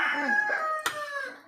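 A rooster crows once nearby, a loud, drawn-out cock-a-doodle-doo with a brief sharp knock in the middle, fading toward the end.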